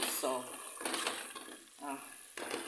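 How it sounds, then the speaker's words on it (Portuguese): Pasta tossed into a pan with onion and garlic gives off a soft, intermittent sizzle and scrape of stirring, fairly quiet, with a person talking over it. "agora vamos colocar dentro o nosso macarrão, né?"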